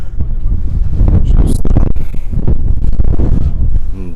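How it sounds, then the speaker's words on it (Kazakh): Strong wind blows at an outdoor car market in Aktobe, buffeting the microphone with loud, uneven rumbling gusts while a voice is faintly present underneath. "Дала жел."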